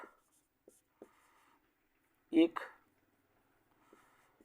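Chalk or marker strokes on a board during a Class 12 physics lesson on alternating current, a few short scratchy marks with a brief louder burst near the middle, alone with no talk.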